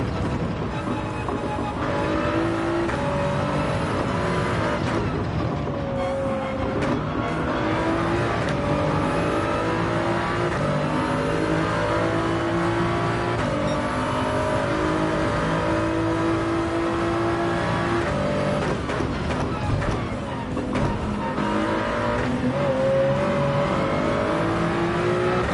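Race car engines drone continuously in Gran Turismo 7 at the Red Bull Ring, with several cars whining and shifting through gears, pitch rising and falling over a steady mechanical whir.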